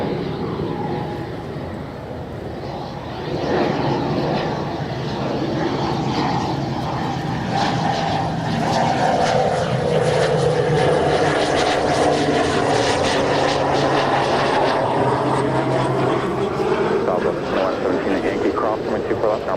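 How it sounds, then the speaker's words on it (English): A Pilatus PC-12 turboprop on a Surf Air flight drones past at LAX, a steady, fairly loud engine and propeller rumble that builds and sustains, heard under intermittent talking. "That's one of those Pilatus PC-12s."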